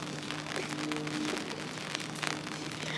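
Light rain pattering steadily outdoors on a cold day, a soft, even hiss close by with faint scattered drops and no voices.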